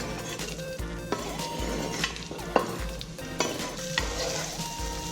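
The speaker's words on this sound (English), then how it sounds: "So I give it a good stir." Fresh vegetables being stirred in a pot preheated with olive oil over medium heat for a vegan chilli, with a continuous sizzle and a rhythm of scraping and clinking spoon strokes, close up and without voices.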